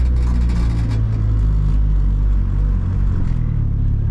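A turbocharged car with a built motor and budget turbo kit accelerates in third gear, its engine a loud, steady, droning rumble heard from inside the car with no talking.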